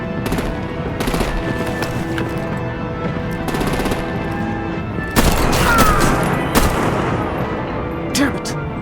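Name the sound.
gunfire from artillery in the Batman video game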